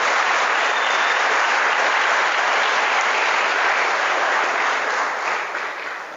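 Loud, dense applause from a large assembly of military and police trainees at a national-awareness briefing, a thick sustained roar of clapping that holds steady and only begins to fade in the last second.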